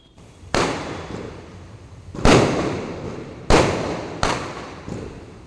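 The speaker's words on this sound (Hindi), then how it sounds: "इस खुशी में हमारे घर में भी आतिशबाजी हुई।" Four sharp firework bangs at irregular intervals during a Chhath Puja celebration at home, each trailing off with a crackling decay, heard from a moderate distance with no talking.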